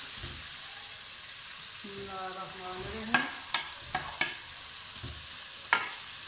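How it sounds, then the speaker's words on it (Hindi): Potatoes tipped into a pan of tomatoes frying in spice powder, under a steady soft sizzle with a handful of sharp clatters from the pan and spoon; a brief voice-like tone rises in between. "अब हम ये आलू इसमें डाल लेते हैं।"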